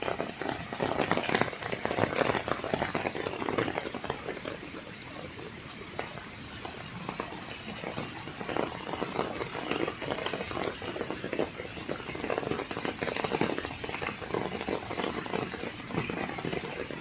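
Steady, loud rushing water churns on without pause, a broad, constant roar of fast-flowing floodwater from an overflowing creek.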